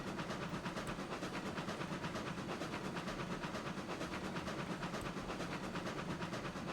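A steam locomotive runs in the video game RailRoads Online, a small, light engine chuffing in a steady rapid rhythm with rail clatter, continuous and close.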